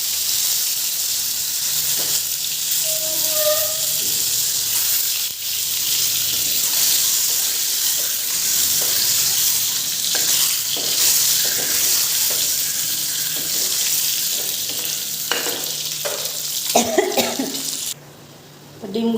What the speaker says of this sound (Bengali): ডিমগুলো তো ভাজা হয়ে গেল